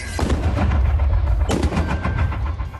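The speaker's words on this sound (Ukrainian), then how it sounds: "Постріл!" Two loud, sharp blasts of gunfire about a second apart, each followed by a rumbling echo over continuous low background noise.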